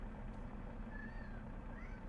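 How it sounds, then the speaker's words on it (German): Cat meowing in the Euro Truck Simulator 2 driving game: a single faint, drawn-out meow that rises and falls, heard over a steady low truck engine drone. "Oh, Katze."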